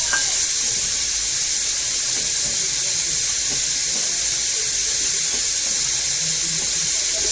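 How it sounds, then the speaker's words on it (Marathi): Cornflour water goes into a Konkani-style paya soup, a steady, close running-water wash with soft hiss and faint bubbling that holds at an even level throughout, no talk. "हे पाणी कॉर्नफ्लॉवरचं याच्यामध्ये ओतून घ्यायचं"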